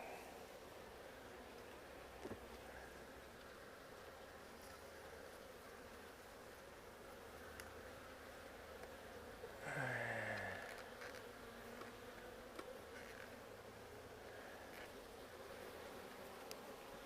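Honeybees buzzing steadily around an opened beehive during a hive inspection, a continuous low drone with a louder burst of closer buzzing partway through.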